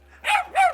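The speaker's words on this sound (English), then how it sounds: "excuse the barking dog for a minute" Two sharp dog barks in quick succession, fairly close and clear, with a faint steady hum underneath.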